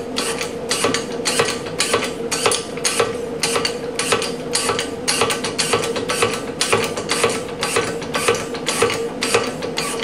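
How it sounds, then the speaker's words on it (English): A hand-pumped hydraulic press is jacked up to form aluminum, a rapid regular ratcheting clack repeating about twice a second, close and steady throughout with no voices. "we can simply jack up the hydraulic press until we see the aluminum form"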